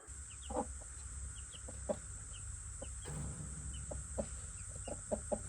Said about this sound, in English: you can see the baby chickens that were born a few days ago